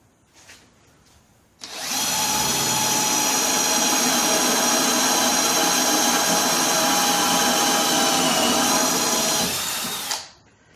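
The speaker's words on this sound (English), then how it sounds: "So I got one more hole to drill. Let's drill that one real quick." A loud, steady power drill whines continuously for about eight seconds, grinding a hole through steel sheet on a step van's ramp door, then cuts off abruptly.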